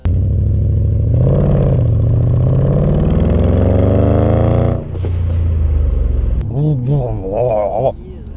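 A Mercedes S-Class with a 5.5-litre V8 rumbles loud and close, its engine and exhaust note climbing steadily through a long rev before easing off, with someone speaking over the idle near the end.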